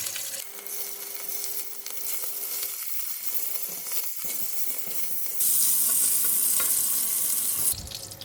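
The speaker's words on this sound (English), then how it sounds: "This is the pork lard. Putting in the prawns." Prawns hit hot pork lard for Hokkien mee, a steady loud sizzle and crackle that rises sharply partway through and holds, with no talking.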